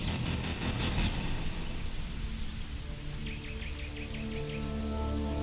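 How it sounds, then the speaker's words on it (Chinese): Heavy rain pours down steadily at an excavation site, a dense and continuous roar of falling water on surfaces, with faint tonal hums and a brief bird-like chirp partway through. "认为这场大雨暗示着洪堡在海洋上经历了风浪"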